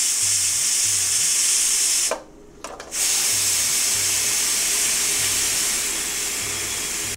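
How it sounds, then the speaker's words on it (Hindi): Loud continuous hiss of steam escaping under pressure from a pressure cooker, broken by a short pause, with a faint rhythmic rattle of the cooker weight underneath. "अब इसको मैं इसमें से जो स्टीम है उसको मैं रिलीज़ कर देता हूँ"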